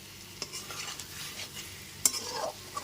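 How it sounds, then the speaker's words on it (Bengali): Taro and potato curry being stirred in a pan, with a soft scraping stir and light sizzle, a sharper clatter of the spoon against the pan near the end; faint and close. "উপর থেকে নিচে খুব ভালো মতো নিয়ে নিলাম"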